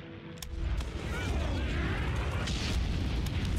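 Deep rumbling bomb explosions from the strategy game Hearts of Iron 3 during a logistical bombing raid, a sustained roaring boom building up and holding steady, with faint sharp clicks on top.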